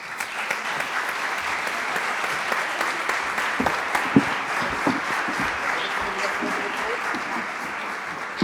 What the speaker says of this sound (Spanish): Le envío un gran aplauso para mis panelistas.